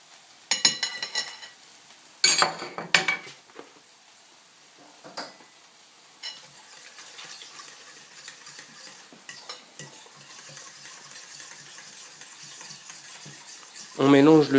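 Spoon stirring melted butter with crème fraîche, egg and sugar in a mixing bowl for cinnamon biscuits: scattered bursts of scraping and clinking against the bowl, then quieter steady stirring, ending with a louder clatter.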